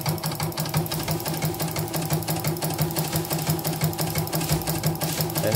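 A CNY embroidery machine runs after a full repair, giving a continuous loud, rapid mechanical stitching rattle with steady rhythmic pulsing and no voices.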